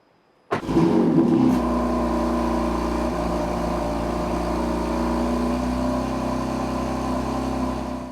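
A BMW M3 engine starts abruptly after a moment of silence, briefly revs, then settles into a loud, steady low rumble close by as the car pulls away on the road.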